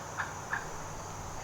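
Two short, faint calls ring out from wild turkeys about 15 to 20 yards off in oak woods near a pipeline, set against a steady insect drone with no talk.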